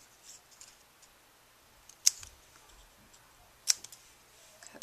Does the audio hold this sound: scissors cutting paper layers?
yes